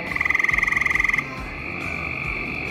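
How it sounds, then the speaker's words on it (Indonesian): A frog croaking in a rapid, evenly pulsed trill that breaks off into a steadier tone, loud and close with no talk. "Buat bunyi katak masing-masing."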